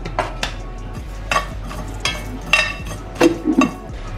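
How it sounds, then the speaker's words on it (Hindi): A spoonful of fennel seeds tipped into a pan already holding fenugreek seeds, with light metallic clinks and scrapes of a spoon against the pan in a few separate taps, close and moderately soft. "नेक्स्ट इसके अंदर मैं डाल रही हूँ मेरी सौंफ, 1 चम्मच जितनी सौंफ"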